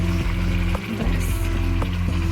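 Chicken sizzling and frying in a pan as a little hot water is added for kosha, a dense continuous crackle with occasional stirring knocks, close and loud with no talk.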